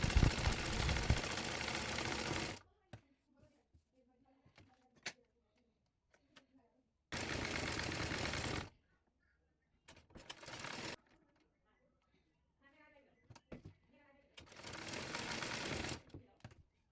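Sewing machine stitching the front panel of a blouse to the fall, running in three loud bursts of steady whirring separated by quiet pauses with soft handling clicks.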